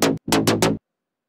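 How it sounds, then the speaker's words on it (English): Four punchy bass notes in a short rolling phrase from a mix project, loud and close, the first slightly separated from the three that follow, then silence. "So let's focus on this rolling bass line,"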